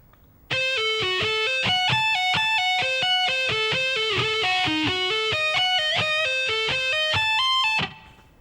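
A distorted electric guitar plays a slow, steady lick of single picked notes with hammer-ons and pull-offs, heard clearly and alone.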